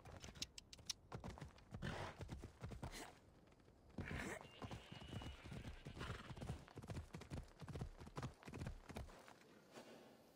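Horse hooves clip-clop in a steady walking rhythm in the video game Assassin's Creed Odyssey, close by, with a brief whinny near the start.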